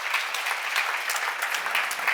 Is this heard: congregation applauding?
yes